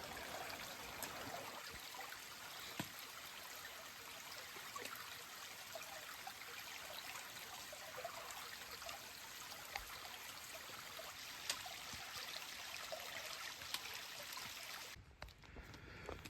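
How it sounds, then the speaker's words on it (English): A stream flows across a hiking trail, giving a faint, steady rushing trickle of water that continues without a break before a short dip near the end. "As we started making our way, I could hear the water"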